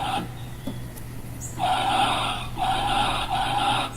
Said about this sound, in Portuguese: esse aqui é um som de um carro